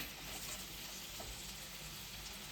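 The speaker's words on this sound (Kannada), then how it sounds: "ಫ್ರೈ ಮಾಡ್ಕೊಳ್ಳಿ." Paneer butter masala ingredients frying in a pan, a steady close sizzle with stirring, continuous and even throughout with no voices.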